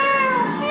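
A human voice imitates a cat's meow as part of an animal-sounds challenge, one short sustained mew with a slightly falling pitch, close and clear with no other talk.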